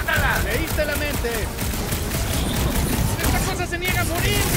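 Gunfire and explosions roar through a battle in Guardians of the Galaxy, loud and dense, with rapid shots layered over the fight and voices talking throughout.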